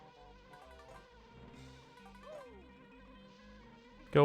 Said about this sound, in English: Oh man, this is where the bees come in.